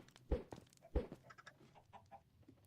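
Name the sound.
chickens clucking in video game Minecraft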